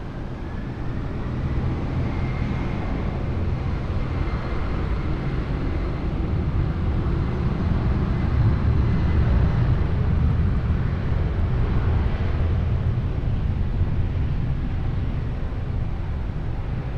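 An airliner takes off from runway 20 at Lisbon Airport, a broad, steady roar of jet engines that holds strong and unbroken for many seconds, heard from a distance with some wind buffeting.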